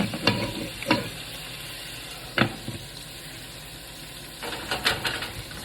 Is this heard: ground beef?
yes